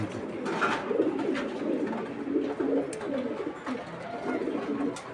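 A racing pigeon coos repeatedly in low, soft murmuring phrases, close by, with faint background noise and no talking.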